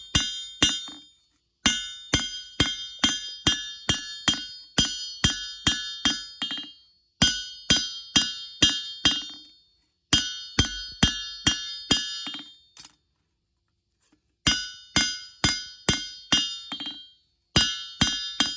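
Hammer blows ring out on a practice knife blade against an anvil during forging, in rapid bright metallic bursts of about eight to ten strikes, pausing briefly between groups, loud and close with no voices.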